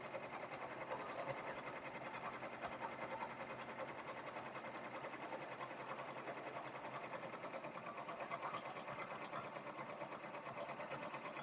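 Multi-needle embroidery machine stitching a pumpkin mug rug, a fast, even, continuous mechanical whir with rapid needle ticking, steady and moderately quiet throughout with no voices.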